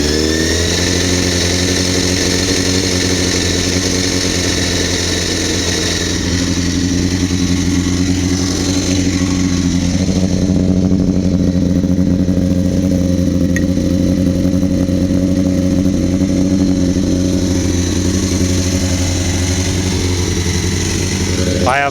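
A cold Honda CBR600 motorcycle fitted with a Devil exhaust idles steadily and loudly up close, a continuous rumbling drone that barely changes across the stretch, with no talking over it.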